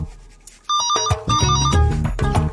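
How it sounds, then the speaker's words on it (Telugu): A telephone rings in a home scene, a loud repeating electronic ring tone with bursts of tonal chirps, close and clear with no talking. "ఏమండే ఫోన్ ఎత్తండే"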